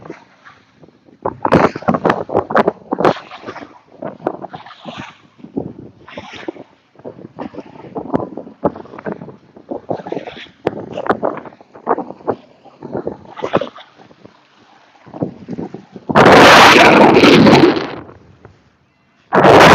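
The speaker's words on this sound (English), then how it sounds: "It is pretty windy out here." Strong wind gusts hit the microphone while fishing outdoors, arriving as repeated short rumbling bursts and then one loud, sustained blast near the end.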